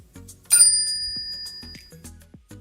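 A bell sound effect for a subscribe bell icon, a single bright, clear ding that rings out and slowly fades, over soft background shuffling and no speech.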